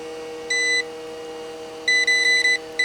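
An electrical tester checking a diode on a Star Shower light display gives short, clear electronic beeps, one brief tone followed by several quick tones a moment later, close and isolated.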